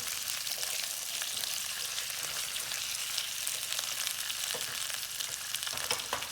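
Chopped garlic sizzles and fries in a pan over medium heat, a steady, close crackling hiss with small pops and no talking.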